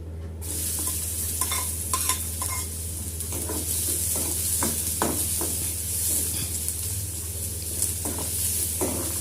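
Chopped onions sautéing in a pan while cooking pepper chicken curry, a steady close sizzle broken by repeated scraping stirs of a spoon against the pan.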